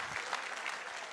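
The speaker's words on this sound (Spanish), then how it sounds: "Si va a aplaudir a Jesús, hágalo con toda su fuerza." A church congregation bursts into applause during a Spanish-language sermon, a short, dense wash of clapping at moderate loudness, steady throughout with no speech over it.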